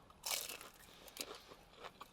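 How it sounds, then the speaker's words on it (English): A bite into a crunchy egg roll gives a sharp, crisp crunch, followed by a few quieter crackles of chewing close to the mic, with no talking. "Nice and crunchy."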